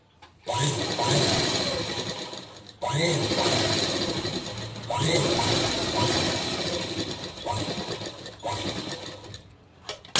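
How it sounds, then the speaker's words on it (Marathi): A sewing machine stitches a half-inch folded fabric strip in several loud, close bursts of rapid mechanical whirring, separated by brief pauses. "अर्धा इंच फोल्ड करायचे आणि शिलाई करून घ्यायची"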